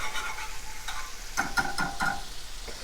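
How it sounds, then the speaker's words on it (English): Garlic sizzles in butter in a pan while a utensil stirs it, with a steady frying crackle and several louder scraping strokes near the middle, close and with no voices. "We're going to let this sizzle for a little bit."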